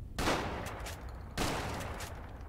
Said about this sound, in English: See, I just shot you in the face.